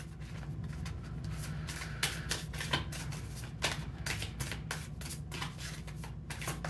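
Tarot cards shuffled close by in a steady flurry of crisp riffling slaps lasting several seconds.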